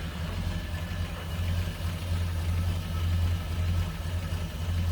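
A 1934 Chevrolet Master 5-Window Coupe engine with a single carburetor idling smoothly: a low, steady, quiet rumble with a constant hum that holds even throughout, with no talk.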